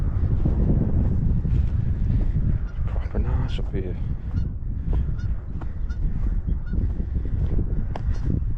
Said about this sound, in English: It's a field full of geese.